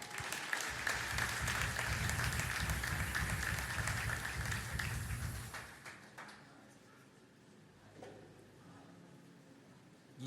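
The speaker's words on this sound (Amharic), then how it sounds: "ና አጨብጭቡለት።" A large congregation at a prophet's worship service bursts into loud, dense applause that holds for about five seconds, then quickly fades to a quiet room.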